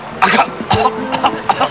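A voice imitates a sputtering engine with a series of short, raspy cough-like bursts in quick succession, close and fairly loud.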